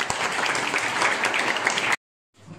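Dense, loud applause from a class at a Class 10 school farewell, a steady sustained roar of many hands clapping at once that cuts off abruptly, followed by faint room noise.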